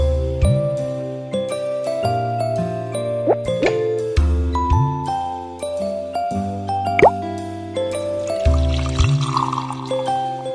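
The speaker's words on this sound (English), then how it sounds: "Pour some hot water to open the leaves." In a cartoon cooking game, hot water is poured over rose tea leaves, heard as bright plops, drips and tinkling chimes over a steady backing melody.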